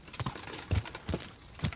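Horse hooves clopping in the medieval open-world game Kingdom Come: Deliverance, four or five soft, uneven thuds spaced across a short stretch, faint and without talk.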